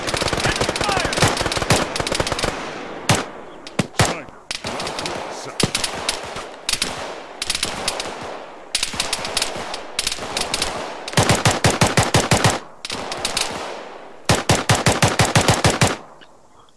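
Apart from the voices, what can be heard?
machine gun fire in the video game Arma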